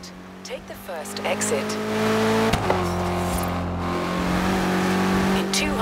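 A BMW car in the Forza Horizon 3 racing game drives with a steady engine hum and rising revs, accompanied by synthesized sat-nav speech and background voices.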